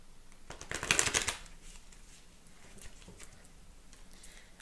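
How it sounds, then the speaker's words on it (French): Tarot cards are shuffled by hand in a quick burst of soft riffling and slapping, close and fairly quiet, then a few faint card taps in near silence. "On va bouger un peu les cartes."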